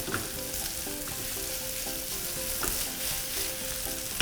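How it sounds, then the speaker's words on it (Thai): Instant noodles fry with bacon in a hot pan, sizzling steadily up close while a utensil scrapes and clinks against the pan in an irregular rhythm. No talk. "ผัดให้หอมนะคะ"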